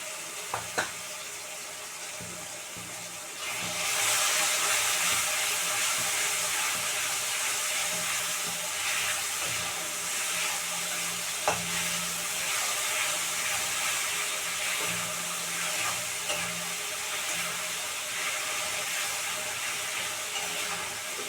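A paste of ground black pepper, cumin and chili fries in a pan. After a brief quiet start it jumps to a loud, continuous, hissing sizzle that holds steady with occasional small pops.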